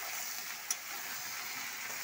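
Turmeric and chili powder being stirred in a frying pan make a faint, even sizzling hiss that stays steady throughout, with one tiny clink partway through.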